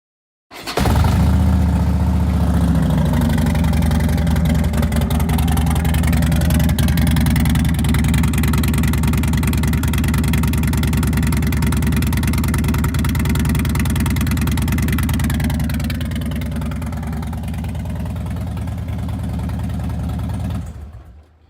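A vehicle engine idles steadily at close range for about twenty seconds, a continuous low rumble with a constant hum that eases slightly toward the end, with no talking.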